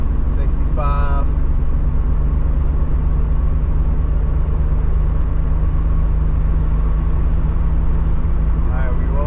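A 1993 Nissan 300ZX cruising in fifth gear at highway speed, a loud, steady low engine and road drone filling the whole stretch, heard from inside the car with a voice speaking briefly over it.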